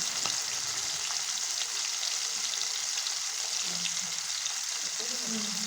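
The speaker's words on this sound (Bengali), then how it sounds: "পকোড়াগুলো কিন্তু আমিই ভাজছিলাম, বেশ ডিপ ফ্রাই করেছিলাম" Chicken pakoras deep-frying in hot oil give a steady, loud, dense sizzle that fills the whole stretch, with faint clatter underneath.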